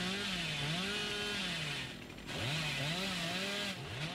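Hillbilly's chainsaw revs loud and steady in Dead by Daylight, its rising and falling pitch swooping in repeated waves with a brief dip partway through, no talk over it.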